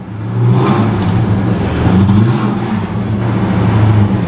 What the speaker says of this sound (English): compressor kicked in, fans working, recycle